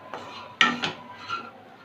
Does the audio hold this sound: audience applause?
no